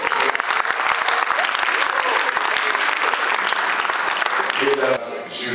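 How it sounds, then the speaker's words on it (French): Wedding guests at a ceremony in a congress hall in Brazzaville break into sustained, dense applause, loud and close, before it cuts off and a voice begins speaking. "Sous vos applaudissements."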